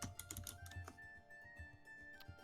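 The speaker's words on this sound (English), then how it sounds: "Typing, apparently." Rapid typing on a computer keyboard, a quick run of light clicks close to the microphone, with faint steady background hum and no talk.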